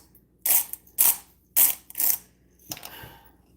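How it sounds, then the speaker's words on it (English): A hand-turned pepper grinder cracks whole peppercorns in four or five short, gritty grinding bursts. Brief pauses separate the bursts, close up and with no speech. "Why can't they just sell whole peppercorns instead of putting in this grinder?"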